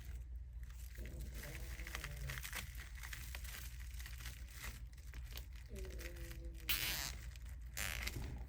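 Plastic zip ties ratchet tight on a deco mesh wreath, with repeated short zipping pulls and crinkling mesh over a low, steady background murmur.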